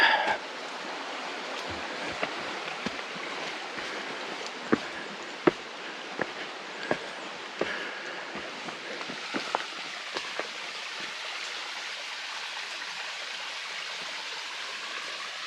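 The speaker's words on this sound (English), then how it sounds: "Beautiful section of creek coming over that sliding rock there." Creek water pouring over a sliding rock on a forest trail, a steady, full rushing wash with scattered small splashes and ticks on top, continuous and fairly close, no voices.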